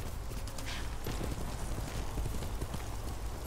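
Horse hooves clip-clop at a steady walking pace over a soft background hiss, close and fairly quiet, in the video game Ghost of Tsushima.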